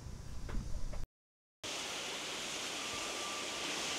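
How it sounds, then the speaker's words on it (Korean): Gyeonam Falls, a large waterfall beside a pine-lined mountain trail at about 750 m, pours out a steady, faint broadband hiss from a distance, briefly cut off by a short dropout before the even rush resumes. "저 멀리서 폭포 소리가 들리고 있거든요"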